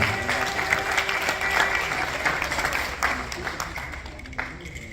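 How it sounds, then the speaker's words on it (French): Sustained audience applause, a dense wash of many hands clapping steadily for several seconds before thinning out slightly near the end. "Sous vos applaudissements."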